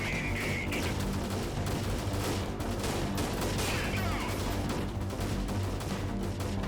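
Gunfire in the video game Freeman: Guerrilla Warfare, with dense, continuous bursts of shots and impacts blending into a loud, unbroken barrage.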